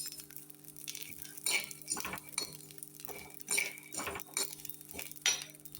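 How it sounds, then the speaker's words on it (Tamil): Black kavuni rice and garlic roasting in a pan, with repeated clinks and scrapes of a spoon stirring against the metal in a steady rhythm, close and moderately loud, no talk. "பூண்டையும் சேர்த்து நல்லா ரோஸ்ட் பண்ணிக்குவோம்."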